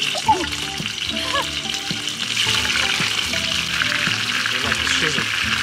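Shad fish fry in hot oil in a pan, giving a dense, steady sizzle with crackling splatter throughout, joined by faint bird-like chirps and low background voices.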